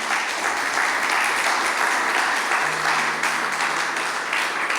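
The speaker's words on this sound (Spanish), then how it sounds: "Denle un fuerte aplauso al Señor" Congregation applauding in a church service, a steady, loud wall of clapping from many people that continues evenly throughout with no voices over it.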